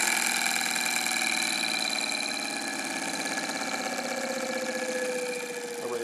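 A homemade perpetual motion generator whose coils are fully short-circuited keeps spinning down, giving a steady mechanical whir and hum with a rhythmic flutter that eases slightly near the end, with no voices.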